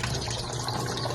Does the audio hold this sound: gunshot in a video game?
no